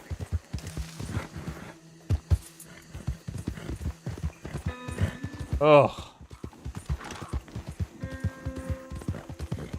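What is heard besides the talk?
horse hooves in Red Dead Redemption 2 video game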